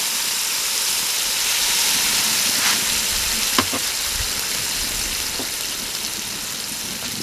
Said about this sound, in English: We're going to add in the alcohol. So we've got the white wine and some port.